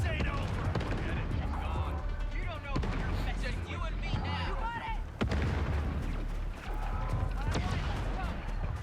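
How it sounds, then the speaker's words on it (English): Enemy gunfire in Star Wars Outlaws, scattered blaster shots and booms cracking out under a voice talking over them, with a steady low rumble running throughout. "they were just firing at me in the grass"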